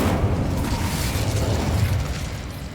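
The Incendio fire spell goes off in Hogwarts Legacy as a loud, sustained whooshing blast that rumbles in the low end for a few seconds and then fades slightly.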